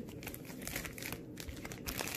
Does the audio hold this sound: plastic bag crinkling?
yes